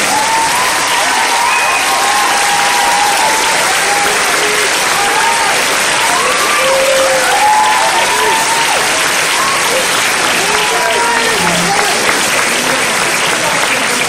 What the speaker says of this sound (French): je pense qu'on peut encore les applaudir.